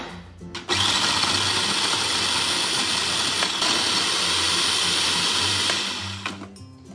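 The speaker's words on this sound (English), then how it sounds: "put the cake in a blender or chopper. Grind it finely." A blender whirs loudly and steadily for several seconds, grinding castella cake into fine crumbs, starting abruptly and winding down at the end.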